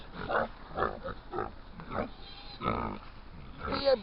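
Several pigs grunt and snort close by in short bursts, one after another, with a few higher squeals near the end.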